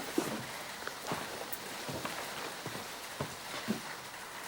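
Heavy rain falls steadily at night, a dense, even hiss of drops on surfaces with occasional louder splashes, fairly quiet and without voices.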